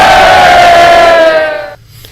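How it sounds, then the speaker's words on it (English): A crowd of East Carolina football players roars loudly in a locker room after a win over Memphis, a dense burst of shouting and cheering that holds steady for over a second, then fades and cuts off sharply. "the crowd pop after he said 6 in that locker room, the player pop was awesome"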